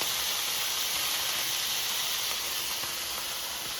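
Chicken livers sauté in a hot pan over medium-high heat, giving a steady, close, even sizzle and hiss that holds without pause, with no talking.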